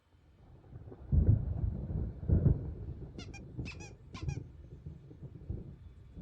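Low rolling thunder rumbles through a stormy scene in the video game Alan Wake, rising and fading in waves, with a few squeaky, goose-like honks cutting in over the top.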